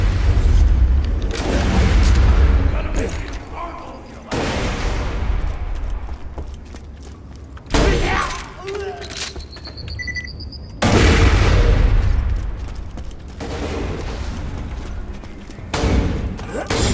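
Turret gunfire in the video game Borderlands 2: loud bursts of heavy booming fire in several long volleys separated by short lulls, with mechanical clanks between.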